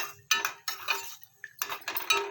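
Cashews frying for payasam are stirred in a pan, producing quick, close metallic scrapes and clinks of a spoon against the pan in short repeated bursts.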